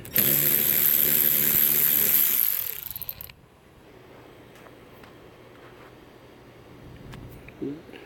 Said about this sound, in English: we are going to take off these 4 bolts first. These are 8mm bolts.